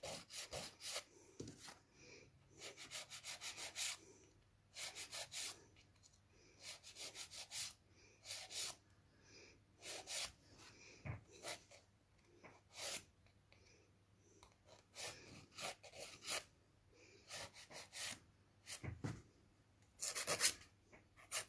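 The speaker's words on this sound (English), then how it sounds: "I'm just filing my clear." A nail file rasps across clear coating on a fingernail while a smile line is shaped, close repeated bursts of scratchy strokes separated by short pauses.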